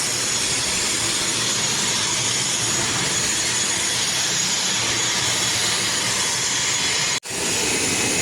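A Lao Airlines passenger plane of about 60 to 70 seats at Wattay airport, its jet engine a loud, steady, close roar with broadband hiss throughout, briefly cutting out near the end, with no talking.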